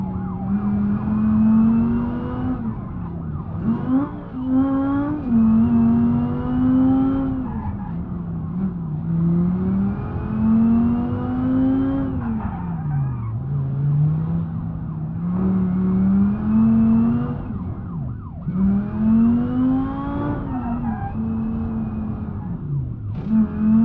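A BeamNG.drive inline-five car engine revs continuously, its pitch rising and falling in repeated sweeps as it climbs through gears, loud and steady throughout with no talking.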